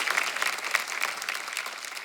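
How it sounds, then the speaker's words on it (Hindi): A studio audience at the Kapil comedy show claps warmly to welcome a guest. The applause is steady, dense and close, with no voices standing out. "आप सबकी जोरदार तालियों के बीच प्लीज वेलकम योगिता बिहानी।"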